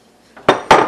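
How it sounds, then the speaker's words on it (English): Spoon knocking against a pot of simmering chili with onions, two sharp, close metallic clanks about a quarter second apart, each ringing briefly after a quiet start. "So I'm going to stir this in here."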